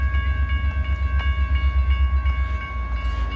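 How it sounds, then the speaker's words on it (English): A southbound freight train rumbles past on the Portland and Western Railroad, a heavy low drone with steady rhythmic wheel clatter and a sustained horn tone riding above it. "Just checking out a southbound freight train here on the Portland and Western Railroad."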